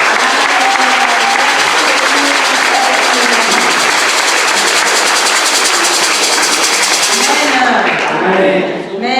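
A church congregation at a women's gathering applauds loudly and steadily for about eight seconds before the clapping quickly dies away.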